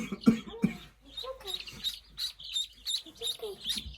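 A farm duckling peeping in a quick series of high, thin chirps, close by, with a person's low voice and a cough heard early on.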